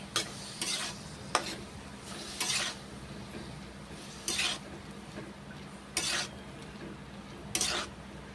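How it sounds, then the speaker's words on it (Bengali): A spoon stirs ivy gourd curry in a metal pan after water is added, giving a handful of short scraping, clinking strokes at irregular intervals over a faint steady simmer, with no talking. "জল দিচ্ছি সামান্য নেড়ে চেড়ে"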